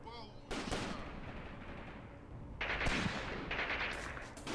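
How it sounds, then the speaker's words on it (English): Returning gunfire in the war game Graviteam Tactics, a steady wash of distant rifle and machine-gun shots with louder bursts partway through, sounding dense and continuous. "Oh, they're returning fire."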